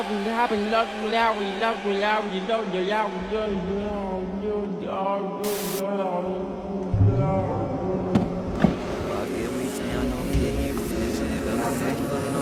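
A hair dryer blows air with a steady low whooshing hum, held under continuous talking throughout.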